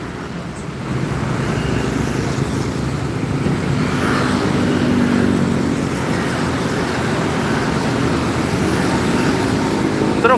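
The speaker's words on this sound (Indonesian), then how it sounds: "ada truk mengangkut pasir." Sand-laden truck rumbling past on a road amid steady traffic, a low continuous engine drone at moderate distance that swells slightly mid-pass and holds, with no voices.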